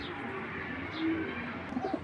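A pigeon coos softly and close by, a low murmuring call repeated over a faint background hiss.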